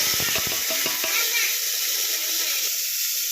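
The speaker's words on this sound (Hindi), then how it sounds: "इसमें हम डालेंगे टोमेटो।" Tomato hits a pan of sizzling mustard seeds, cumin, asafoetida and curry leaves, giving a brief burst of crackling and spatter, then a steady bright sizzle that runs close and fairly loud to the end.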